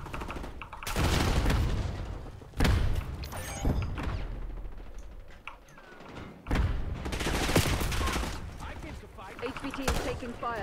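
Dense gunfire from Call of Duty: Black Ops 6: repeated loud automatic bursts and heavy booms through the whole stretch, with a player talking over the shooting.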